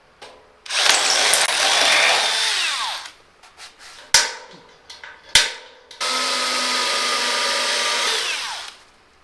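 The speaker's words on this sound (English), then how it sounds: "I'll get that bit and drill this out, and then we have to drill 3 more holes" Power drill boring bolt holes through a steel truck frame, two long sustained whining runs separated by a gap with sharp clanks and short bursts, loud and close with no talk.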